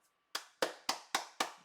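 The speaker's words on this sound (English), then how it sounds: "Let's clap for these people." Six sharp hand claps in a quick, even rhythm, close and crisp, from a single person during a live stock and options market stream, with no talking over them.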